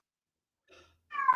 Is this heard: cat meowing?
yes